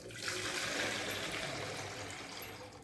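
Water pouring steadily into a plastic box being readied to hold cut coconut pieces, a continuous close gushing splash with no talk.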